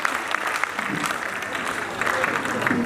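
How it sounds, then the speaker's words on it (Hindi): Applause from an audience at a school annual function, welcoming young child performers; steady clapping with crowd noise fills the short stretch, and a voice speaks over it. "प्लीज तालियों से स्वागत कीजिए हमारे बच्चों का, नन्हे कलाकारों का।"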